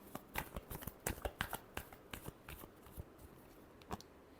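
Tarot cards are shuffled by hand in a final shuffle, a quiet, close series of sharp irregular riffling snaps and flicks, clustered in the first half and thinning toward the end.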